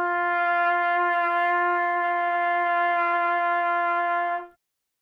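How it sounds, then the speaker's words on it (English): A trumpet sustains one steady G tuning note for about four and a half seconds, clear and close with rich harmonics, then stops cleanly, with no talking. "Well, on trumpet, you can tune to a G or a C, high C."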